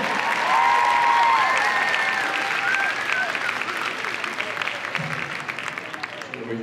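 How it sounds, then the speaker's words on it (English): An audience at the 2017 Portland Bridal Show fashion show claps in sustained applause, a dense crackle of many hands that starts loud and slowly thins, with a voice heard over it near the end. "Give her a round of applause."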